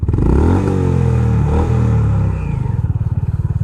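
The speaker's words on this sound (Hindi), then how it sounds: "I will rev the motorcycle" A Honda Highness CB350 motorcycle engine revs up loud and close, holding a rough, throaty roar before dropping back to a pulsing, thumping idle.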